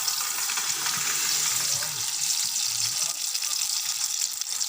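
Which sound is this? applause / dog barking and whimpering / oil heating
oil heating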